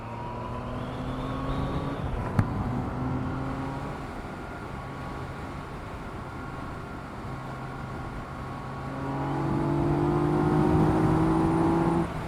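Yamaha XSR900 motorcycle engine accelerating steadily with rising revs, a continuous droning tone climbing in pitch and swelling louder toward the end, with no talk over it.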